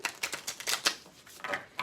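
A deck of tarot cards shuffled by hand, producing a close, quiet run of quick, crisp card slaps and riffles in an uneven, rapid rhythm.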